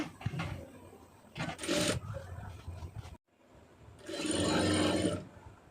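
A sewing machine stitches a hem in cloth in short mechanical bursts, a few quick runs and then a longer steady whir after a brief silence, close and fairly quiet.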